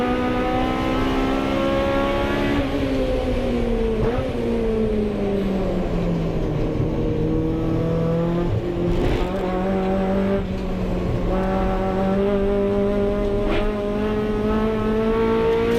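Honda Civic hot hatch race cars battle at Rockingham, a close in-car engine drone that rises and falls in pitch through gear changes and corners, loud and continuous, with faint clunks and another car nearby.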